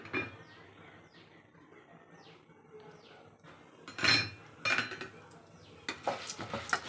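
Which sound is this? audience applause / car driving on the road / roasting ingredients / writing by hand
roasting ingredients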